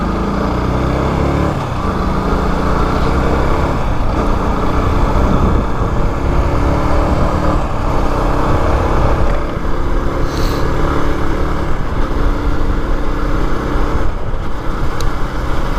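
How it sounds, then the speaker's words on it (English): A Yamaha YZF-R125 motorcycle rides along with its exhaust giving a constant loud, buzzy, lawnmower-like drone from close up, rising and falling slightly as the bike moves. "my exhaust sounds like a lawnmower"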